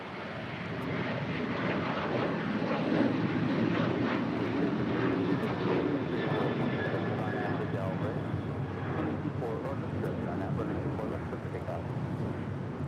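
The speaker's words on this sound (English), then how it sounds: "That is United 1617 departing to Chicago on a 737-900ER." A United Boeing 737-900ER departs for Chicago, a continuous jet engine roar at moderate distance that peaks early and then slowly fades, with a voice speaking over it.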